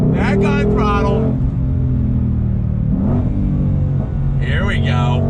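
A Ford Shelby GT350R Heritage Edition roars loudly as its engine revs hard under throttle, rising pitch sweeps from close by, easing off mid-clip and then climbing again near the end with a voice briefly audible.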